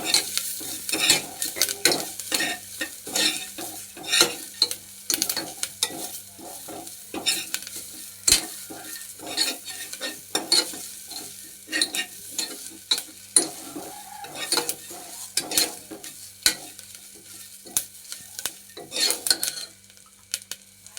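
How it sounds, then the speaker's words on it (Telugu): Curry leaves and mutton bones fry in a pot for mutton soup while a metal spoon stirs and scrapes, giving repeated clanks and scrapes over a soft sizzle, with no talk. "అలాగే కరివేపాకు ఇవన్నీ వేసుకున్న తర్వాత బాగా వేగించుకోవాలి"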